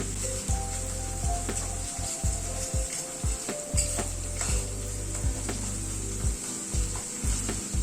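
A pan sizzles steadily as garlic, green chili and ginger paste stir-fry in it, under a constant hiss with a low mechanical rattle beneath. A spatula scrapes repeatedly and rhythmically, close and moderately loud, with no talking.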